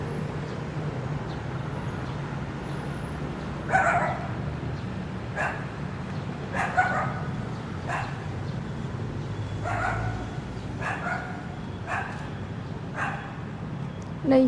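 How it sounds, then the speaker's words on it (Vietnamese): A dog barks hard and repeatedly at Dieu Giac Pagoda in Saigon. The barks come in a string of separate bursts, fairly close, over a constant low outdoor hum. "Chó nó sủa, chó nó sủa dữ quá."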